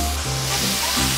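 Fish skin is dry-roasted in a hot pan, making a brief, loud, dense sizzle with a few tonal hisses.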